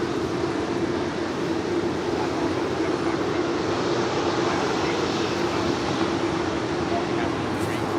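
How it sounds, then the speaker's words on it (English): A United Airlines Boeing 757-300 arriving from Chicago O'Hare on landing at Los Angeles International Airport gives a steady, broad jet roar that stays constant and fairly distant throughout, with faint talk mixed in. "United Airlines Flight 1712 at the 757-300."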